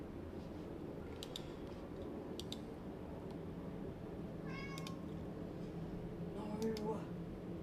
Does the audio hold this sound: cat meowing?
yes